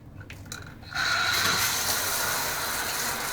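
Shower water sprays onto a Carp Alligator bait boat in a bathroom, starting abruptly after a quiet second and then hissing steadily and loudly without pause.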